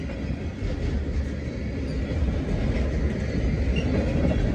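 A CSX freight train made up entirely of tank cars rolls past westbound in fall, giving a steady, loud, continuous low rumble of wheels on rail that swells slightly toward the end, with no talk over it.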